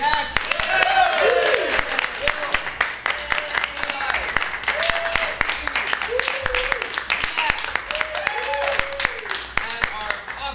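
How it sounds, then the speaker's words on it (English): Audience applause for a performer closing a live improv comedy show at a theater, a steady wash of clapping running throughout with voices and cheers rising over it at moderate level. "Give a big round of applause for Zach."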